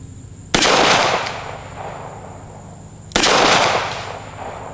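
Two sharp, loud shots from a Smith and Wesson 642 revolver crack out a few seconds apart outdoors, each followed by a short fading echo.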